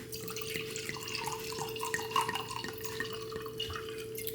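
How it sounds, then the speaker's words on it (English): Rosé wine is poured into a glass, a faint, trickling liquid sound with small drips and splashes over a quiet, humming room background. "Pouring the rosé."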